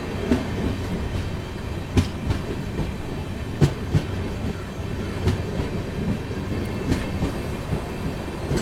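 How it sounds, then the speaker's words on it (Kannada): Chikmagalur–Tirupati passenger train running on rails near Devanur, with a steady rumble and regular clickety-clack wheel beats close by, continuous throughout. "ನಮ್ಮ ಚಿಕ್ಕಮಂಗ್ಳೂರು ತಿರುಪತಿ ಗಾಡಿ ಸದ್ಯಕ್ಕೆ ತಲುಪಿದೆ ದೇವನೂರು ರೈಲ್ವೆ ಸ್ಟೇಷನ್ಗೆ."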